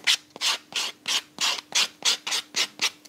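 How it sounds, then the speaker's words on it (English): A sanding block rubs wood in about ten quick, evenly spaced back-and-forth strokes, close and crisp, with no talking. "I'm just using a little sanding block."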